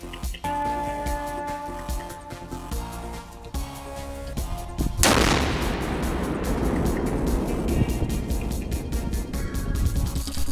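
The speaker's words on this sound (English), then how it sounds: "3 hand grenades under the floor, not 2 as required by the standard." Hand grenades detonating beneath the floor of an armored civilian vehicle during a protection test: a sudden loud broadband blast midway, followed by a long roaring, rumbling decay, after a stretch of steady background noise.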